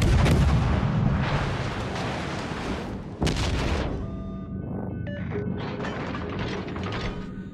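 Naval warship guns in World of Warships: Legends fire in a heavy, dense artillery barrage that is loud and booming. A sharp blast cuts in midway, then the fire eases into scattered mechanical clanks and distant reports.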